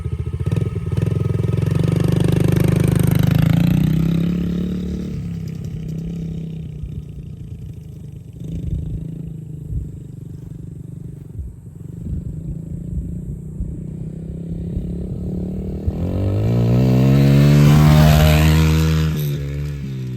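A Yamaha TT-R dirt bike engine idles and runs steadily up close, then revs loudly and pulls away with rising pitch near the end, ridden by a young rider.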